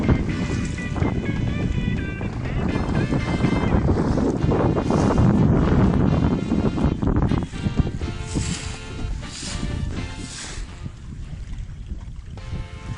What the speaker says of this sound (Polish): stabilny wiatr z północy, a żegluga idzie świetnie.